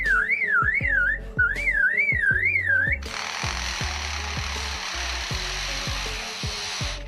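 An Australian lyrebird mimics a chainsaw and other sounds: a loud, close warbling whistle rising and falling in waves, broken by rhythmic knocking, then giving way to a sustained harsh, buzzing motor-like roar that continues to the end.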